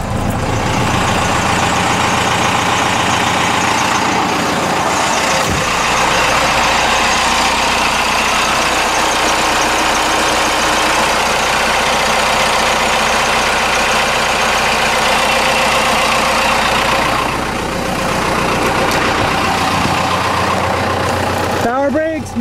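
A Ford truck with a Cummins diesel engine idles steadily up close, a loud continuous rumble with a brief dip partway through, while people talk over it.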